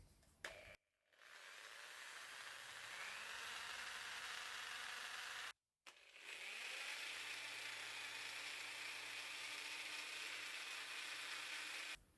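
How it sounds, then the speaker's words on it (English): A drill-driven wire wheel whirs steadily against an antique cast iron door lock part, stripping paint with a gritty, hissing scrape, briefly stopping twice before spinning up again. "we'll try and buff this lock part up just with a wire wheel on my drill"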